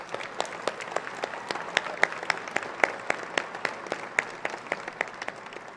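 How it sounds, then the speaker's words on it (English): Applause at a college graduation ceremony honouring parents and families, a sparse scattering of individual claps with distinct irregular hand strikes over a low crowd murmur, moderately distant. "please give them a round of applause for all the support and guidance they have given us"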